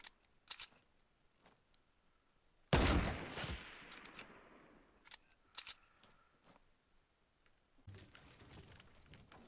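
A single loud sniper rifle shot cracks out in a Fortnite match and rings off briefly, surrounded by quiet game clicks and short sharp effects, with no talking.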